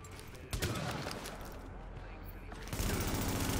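Enemy gunfire erupts in The Division during the Charles Bliss fight: rapid bursts that swell sharply near the start and again toward the end, loud and close, over a player's anxious talk.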